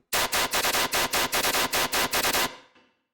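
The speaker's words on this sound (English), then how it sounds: "And then we kind of have the background gun basses here." A gun bass sample from electronic music production fires as a rapid burst of about fifteen loud, harsh, distorted hits in a machine-gun rhythm, then cuts off with a short fading tail.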